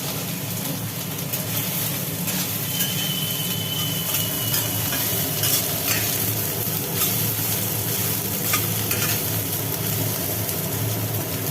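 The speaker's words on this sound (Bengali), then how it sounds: "এবার ওই তেলের মধ্যে সোয়াবিনগুলো দিয়ে দিল" Soybean chunks fry in a pan of hot oil, giving a steady, even hiss that holds for about twelve seconds with faint low background rumble.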